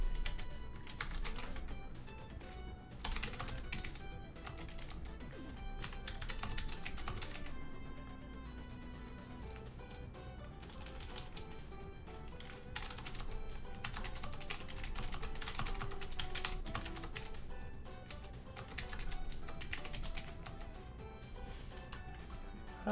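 Keyboard typing in rapid bursts runs through dense, loud background music and game sounds, the keystrokes partly buried in the mix.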